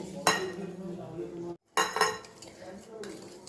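Oil and sugar are whisked in a bowl for an eggless plum cake batter, close clinking and scraping of a utensil against the bowl in two bursts separated by a short silent gap.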